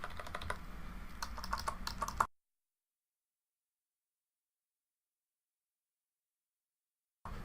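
Typing on a computer keyboard, a quick run of close key clicks and taps lasting about two seconds, followed by silence and a short return at the end.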